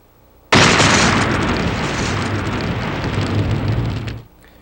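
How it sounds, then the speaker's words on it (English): An explosion sound effect stretched out with a crossfade, hitting suddenly and then roaring as a loud, sustained, noisy rumble for several seconds before cutting off sharply. No voices. "What we've done here is lengthened the effect of the explosion."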